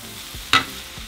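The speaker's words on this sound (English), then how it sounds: "after 4 minutes, we're going to throw in our meat" Meat and peppers for a Philly cheesesteak sizzle in a pan, with a soft steady fry and one sharp stirring scrape near the middle.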